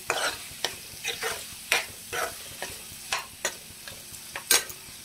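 Onion and tomato masala frying in a pan, a low sizzle broken by about a dozen sharp, rhythmic scrapes of a spatula stirring, close and clear with no talking.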